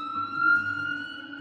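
Police siren in the video game Choices: Stories You Play, a steady electronic wail with sustained tones, loud and close, heard alone with no speech.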